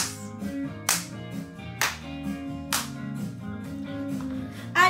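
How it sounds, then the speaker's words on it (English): Single sharp hand claps ring out on the beat of an upbeat preschool children's song, four crisp claps spaced about a second apart over steady music. "Clap your hands."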